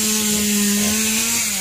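Chainsaw cutting into the stump of a large rain tree, a steady loud close engine whine with the chain biting continuously through the wood, no voices.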